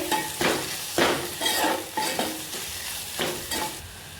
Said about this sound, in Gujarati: આદુ લસણની પેસ્ટ છે એ થોડીક નાખી દઈશું આપણે હવે આપણે મિક્સ કરી નાખશું